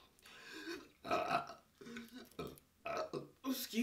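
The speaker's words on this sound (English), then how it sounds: "I have to burp." Several deep, drawn-out burps after a meal of KFC Famous Bowl, coming in separate bursts with short pauses between, close and fairly quiet.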